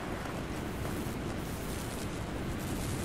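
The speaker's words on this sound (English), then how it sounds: "Mason, blow a hole in that fucking wall." A wall-breaching explosion from the Call of Duty Black Ops video game comes through as a dense, roaring wash of blast noise and debris rumble that stays loud and sustained with no voices.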